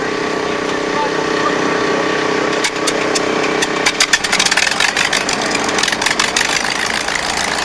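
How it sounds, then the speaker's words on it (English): Rutan Voyager aircraft engines, including a liquid-cooled Teledyne rear engine, idle steadily on the tarmac at Edwards Air Force Base, with a continuous droning hum and clattering bursts later on. "Now on the tarmac at Edwards, the engines are fired up."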